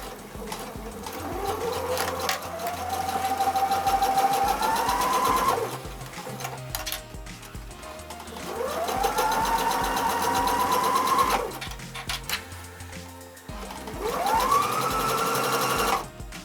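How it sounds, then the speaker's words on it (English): A sewing machine stitches three sides of a bar stool upholstery cover with about a 3/8-inch seam, running in three long steady whirring bursts separated by brief pauses, close and loud with no talking. "All I'm doing now is sewing the 3 sides, and I'm using about a 3/8 seam."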